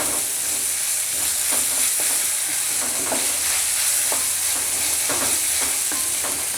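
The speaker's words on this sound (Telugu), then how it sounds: "ఇది కొంచెం వేగిన తర్వాత అల్లం వెల్లుల్లి పేస్ట్ యాడ్ చేయాలి. బాగా కలుపుకోండి." Ginger garlic paste frying in hot oil as it is stirred in a pan, a loud, dense, continuous sizzle with rhythmic spatula scrapes close up and no voices.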